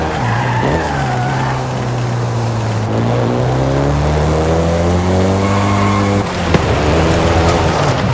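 A Volkswagen Golf GTI in Forza Horizon 5 drives in Mexico with a steady, loud engine drone that holds one pitch, then rises gradually as it revs higher. It drops sharply near the end, with a brief rough burst as it shifts.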